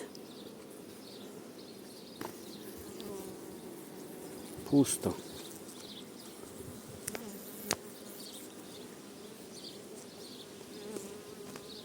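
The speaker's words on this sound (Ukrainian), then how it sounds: "І злі бджоли нападають" Honeybees buzz around a hive in a steady, close drone, with a few brief knocks and a single short spoken word, in wind.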